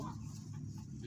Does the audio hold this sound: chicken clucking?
yes